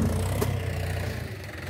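A Mahindra 265 tractor engine runs steadily outdoors on wet, muddy ground, a loud continuous low rumble with a brief clank partway through.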